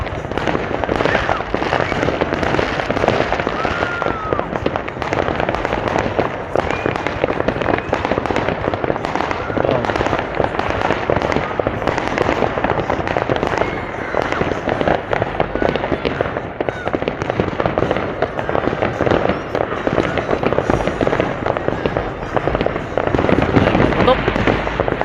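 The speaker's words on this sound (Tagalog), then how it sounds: "Maraming paputok, ang dami." New Year's Eve fireworks and firecrackers going off in a dense, continuous barrage of pops and bangs, near and far, with people talking and children reacting throughout.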